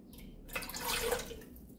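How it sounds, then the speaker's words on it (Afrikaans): Water poured into a cooking pot on a stovetop plate, one litre measured in for maize meal porridge; a short, close splashing pour rises and fades over about a second, with no talk. "in die pot voeg ons 1 liter water, 4 koppies"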